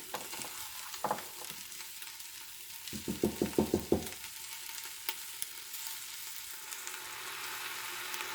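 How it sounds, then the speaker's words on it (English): Lentils, onions, sausage and chicken sizzling in a pot over medium heat, a steady soft frying hiss broken by a short run of quick, clustered stirring scrapes near the middle. "I'm gonna mix them all in with the lentils and the onions and the sausage and chicken"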